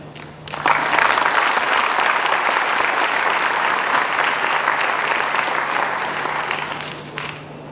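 Audience applause fills a hall at a State Bank foundation day celebration, a steady dense clapping that swells in quickly, holds loud for several seconds and tapers off at the end, with no voices over it.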